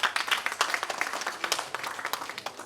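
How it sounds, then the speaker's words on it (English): Audience clapping at a taxi association gala dinner and AGM, a fairly faint but distinct patter of individual hand claps in an irregular, sustained rhythm. "Give yourself a big round of applause."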